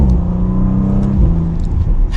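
A 2021 Audi RS5 Sportback with turbocharged quattro drive accelerates from a stop on a smooth road, with a loud, steady engine rumble and rising exhaust drone heard from inside the cabin.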